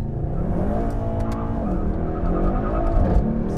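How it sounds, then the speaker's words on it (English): A 603-hp 2020 Mercedes-AMG E63 S wagon drifting in rear-wheel-drive mode, its engine droning steadily and loudly with tire scrub and skidding throughout, close and continuous. "Still drifting."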